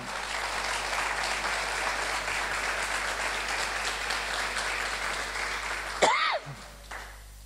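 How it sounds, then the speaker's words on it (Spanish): Church congregation applauding together, a dense, even wash of clapping that holds steadily for about six seconds, then cuts off abruptly as a brief sweeping electronic tone passes. "Den un aplauso al Señor"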